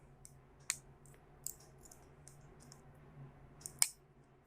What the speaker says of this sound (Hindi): तो देखिए मैं कैसे इस तरह से यहाँ सॉकेट बिठाता हूँ।